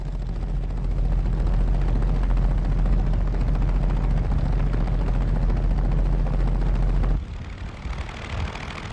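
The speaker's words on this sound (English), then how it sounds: "Seeing one in flight today gives a graphic idea of the flimsiness of aircraft construction at the time" A Blériot monoplane flies overhead with a loud, steady, rattling engine drone that holds strong for several seconds, then drops suddenly to a fainter, more distant hum.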